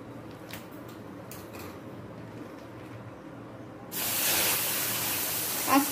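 Milk with cream is poured onto hot caramelized sugar in a pan, giving a sudden loud, broad hiss that bursts in partway through after quieter faint clatter, then holds steady to the end.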